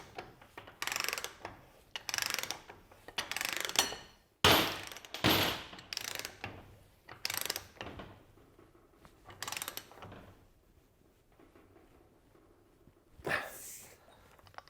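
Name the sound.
socket and bar running nut up onto steering pitman arm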